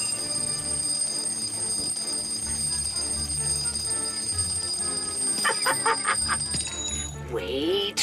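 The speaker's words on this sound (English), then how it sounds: "you must have switched off all of the alarm clocks at the end of 90 seconds" Several alarm clocks ring together in a bedroom during a timed game-show challenge, steady high bells and chimes persisting throughout with a burst of clattering rings near the end, under background music and talk.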